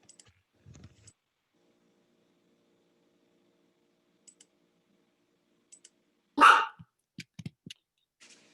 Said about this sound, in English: I'm sorry, I've got a barking dog.